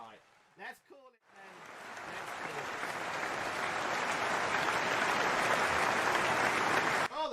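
Sustained applause and clapping for a guest at an online Amstrad CPC video game awards show, starting after a few brief spoken words and swelling to a steady, dense roar of claps that holds until it cuts off near the end.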